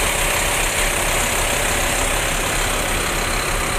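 Scania K310 double-decker intercity bus idling with a steady, even rumble, close and continuous, while wind noise hisses across the whole stretch.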